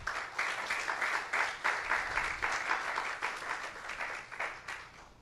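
Church congregation claps during a sermon, a fairly loud wash of applause with a strong, regular rhythmic pulse running through the whole stretch.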